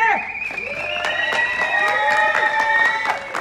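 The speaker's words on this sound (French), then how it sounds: "On applaudit plus fort, s'il vous plaît" An outdoor audience claps for a rapper at a public square gathering, with scattered claps over a bright sustained musical tone, fairly loud and close.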